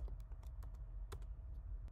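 Light typing on a Mac computer keyboard: a handful of soft, irregular key taps over a low background hum, close but quiet, with no voice.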